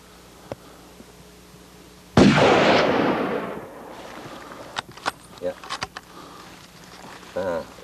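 A single hunting rifle shot fired at a mountain game animal from roughly 300 meters rings out sharply and rolls away in a long echoing decay, followed by a few faint clicks and handling noises outdoors.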